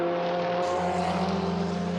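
A Ferrari GT race car on a qualifying lap at Paul Ricard circuit screams past with a steady, loud high-revving engine drone that shifts gear partway through, with no talk.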